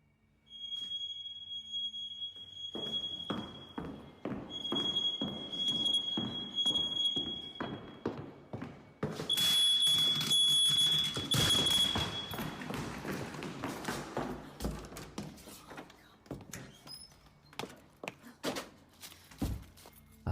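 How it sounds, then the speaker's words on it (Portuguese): A ceiling smoke detector sounds a steady high-pitched fire-alarm tone, broken by a pause partway through, while irregular thumps and knocks sound around it. "o alarme de incêndio é então inexplicavelmente acionado"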